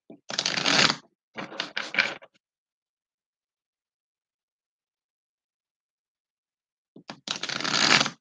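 Two quick bursts of tarot card shuffling close up, a pause of silence, then one more riffle near the end.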